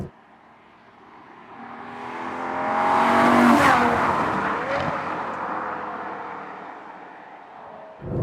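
A 1.9-ton Ferrari FF held in the lower gears accelerates hard, its engine note climbing and swelling to a loud peak mid-clip, then easing off into a sustained drone with no talk.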